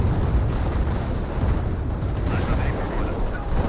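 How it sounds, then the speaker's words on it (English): Calliope rocket barrage pounding a position in Company of Heroes, a dense, continuous rumble of overlapping explosions and booms, loud and close throughout. "now the Callio barrage onto the MG42"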